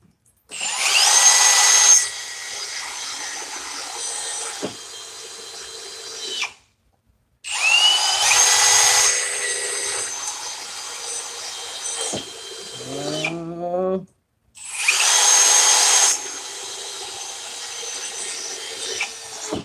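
A Milwaukee M18 Fuel Gen3 hammer drill and a Ryobi 18V One+ drill boring through wood in a head-to-head race, with three long, loud, whining bursts of drilling separated by short silences.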